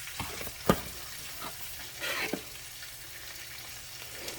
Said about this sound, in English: we're going to let it simmer on medium. So we turn our fire back up to medium and we're going to continue to whisk